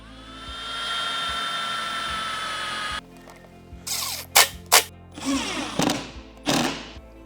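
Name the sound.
power drill screwing L bracket into cabinet side panel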